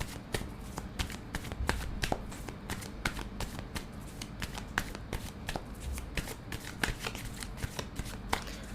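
A deck of tarot cards is shuffled close up, a continuous run of quick, crisp riffling flicks and soft slaps that carries on steadily at a low level with no talking.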